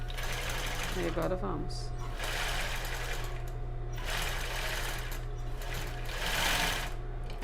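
A domestic sewing machine runs a short reverse backstitch to secure a zigzag seam on underwear fabric, its steady motor hum and rapid needle clatter continuous and close while someone talks over it.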